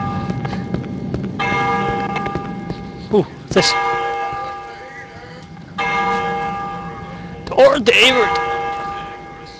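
Bells ring in the horror video game Cry of Fear, with loud, sustained metallic tolls recurring several times and long ringing decays, while someone talks over them.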